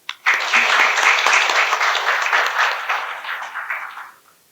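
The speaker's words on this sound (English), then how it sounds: "let us give a huge round of applause to ourselves and to the entire team of" An audience at a felicitation program for successful students bursts into loud, sustained applause that holds steady for about four seconds, then quickly fades out.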